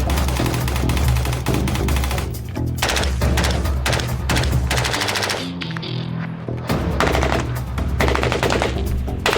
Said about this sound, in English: Y'all just shooting guns.